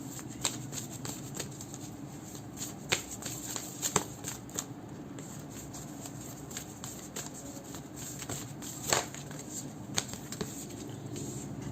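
Quiet shuffling of tarot cards, with soft riffles and scattered light clicks and taps close by, no talking.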